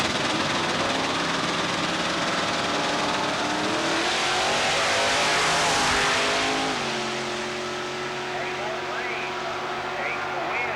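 A Chevrolet Beretta race car with the Williams Body Shop at a 1990 drag strip at Southeastern Dragway holds a loud, sustained engine roar that peaks and then eases to a steadier drone, with a track announcer talking over it.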